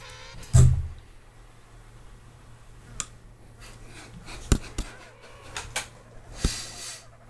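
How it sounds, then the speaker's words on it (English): Comic sound effect of penguins touching beaks: one soft thump followed by a scattering of sharp little clicks and taps at uneven intervals, quiet and close, with no talk. "now show us the sound of penguins touching beaks."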